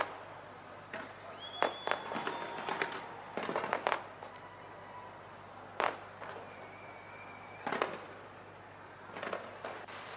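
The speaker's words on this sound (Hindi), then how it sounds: "हर तरफ आपको इस तरीके की आतिशबाजी देखने को मिलेगी" Sharp pops and bangs of New Year's celebration fireworks go off at irregular intervals in India, some with whistling streaks, heard from a moderate distance over a steady background hum.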